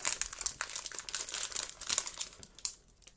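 A Pokémon card booster pack wrapper crinkles and crackles up close as it is being torn open, with dense, irregular plastic rustling that fades near the end.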